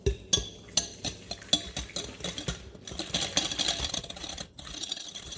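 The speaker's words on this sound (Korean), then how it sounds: "휘스크를 이용해서 두부를 잘게 쪼개줍니다." A whisk breaking up soft tofu in a bowl, sounding as a series of quick rhythmic clinks and scrapes against the bowl, brisk at first and then blending into a faster, busier stirring rattle.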